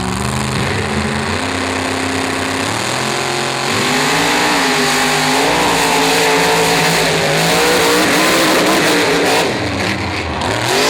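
The brand-new Bad Company monster truck races at a monster truck show in Miami, Oklahoma: a loud, continuous engine roar that rises and falls in pitch with hard revving and acceleration, surging stronger midway and holding steady with no talk.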